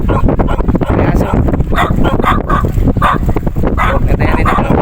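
A dog barks repeatedly in quick, uneven yips and bow-wows at a riverside spot in Binmaley, Pangasinan, fairly close and loud over outdoor background noise.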